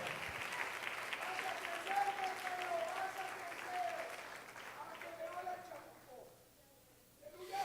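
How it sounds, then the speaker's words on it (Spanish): Congregation in a church applauding the King of Glory, steady clapping from many hands with voices mixed in, fading out toward the end. "alguien dele ese aplauso al Rey de la Gloria"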